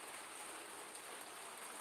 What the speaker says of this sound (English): It's been raining out